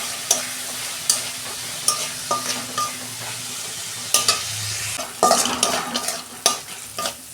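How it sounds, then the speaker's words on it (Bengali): Tomato goes into a pan of browned onion and fries with a steady sizzle, while a utensil scrapes and stirs in repeated sharp knocks every second or so, close and clear without any speech. "পেঁয়াজটা ভাজা হয়ে গেছে, আমি একটা টমেটো দিচ্ছি।"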